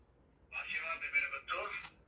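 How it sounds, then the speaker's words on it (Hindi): Phone ringtone: a short electronic melodic tone in two bursts, playing moderately close and alone, with no talk over it. "रिंगटोन लगी हुई है, रिंगटोन सुनाता हूं आपको मैं"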